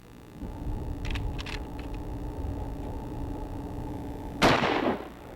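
Several gunshots from revolvers and a .30-30 rifle fired into an earth block outdoors; a steady low rumble runs underneath, then a single loud, sharp report rings out near the end.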